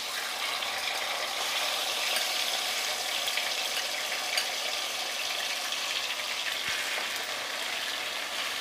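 Marinated chicken frying on high flame in oil with whole garam masala for a Mughlai chicken masala, a loud, steady, close sizzle with faint stirring scrapes and no talking.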